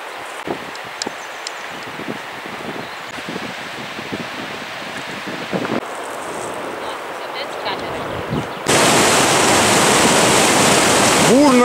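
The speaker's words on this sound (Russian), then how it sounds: "Бурная река Закан. Таяние снегов." The Zakan river, brown and powerful, swollen with late-May snowmelt, breaks in as a loud, constant, close roar of rushing water after several seconds of quieter rustling and handling noise.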